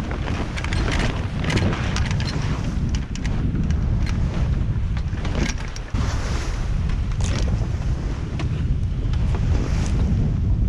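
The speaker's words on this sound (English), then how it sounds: "Windy, innit?" Strong wind roars steadily across open water while sailing in the Caribbean, buffeting the microphone with a constant rushing noise and faint sea wash underneath, with no talking.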